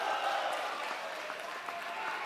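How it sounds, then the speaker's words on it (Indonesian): Audience applause for the candidate pairs at a Banda Aceh 2024 mayoral debate, a steady, moderately faint wash of clapping across the hall with no clear talk over it. "Boleh tepuk tangan untuk seluruh pasangan calon terlebih dahulu."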